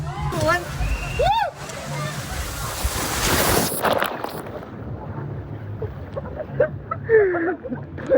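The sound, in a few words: water splashing at water park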